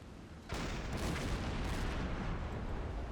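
Heavy deck gun fire against a ship in Silent Hunter 5, a dense, booming roar that kicks in abruptly after a brief quieter start and rolls on loudly without a break, with no talk.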